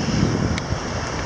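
Steady ocean surf rushes at the shore, a continuous broadband wash mixed with wind buffeting the microphone, loud and close throughout, with one faint brief tick near the middle.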